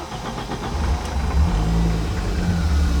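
A 1000 hp Audi S2 engine drones low and heavy from inside the car as it pulls and accelerates, a loud, continuous rumble that builds with no talk.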